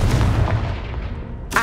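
A Confringo explosion spell in Hogwarts Legacy booms loudly and fades into a rumbling tail, followed by a short sharp hit at the end.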